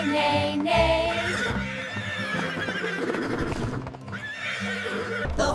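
Horses neigh and whinny in a farm setting, with repeated loud calls over a dense backing that also carries hoof clip-clops. The sound may come from a children's song rather than live animals.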